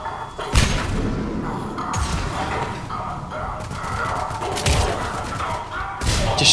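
A frag grenade blast in the Mass Effect 3 co-op demo: a sharp, loud thump near the start and another later, set in dense, continuous battle noise with little talk.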